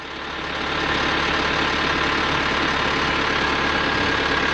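A truck's diesel engine idles with a steady, loud, rumbling drone that holds even and continuous throughout, with no talk over it.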